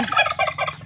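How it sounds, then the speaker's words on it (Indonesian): A turkey gobbles close by, a quick burst of rapid, rattling calls lasting under a second, with no other voices. "si kalkun nih lagi ngembang-ngembangnya"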